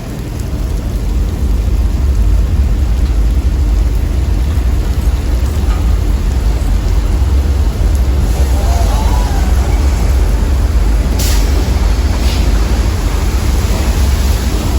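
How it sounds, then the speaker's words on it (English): Staged rain and thunder effect on a studio tour tram ride, a loud, steady wash of falling water with a low rumble running throughout and a faint voice under it. "expect a lot more water headed our way. As some guests on board like to say, when it rains, it pours"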